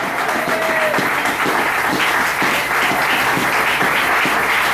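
Church congregation applauding during a worship service, steady dense clapping throughout with a faint held tone early on.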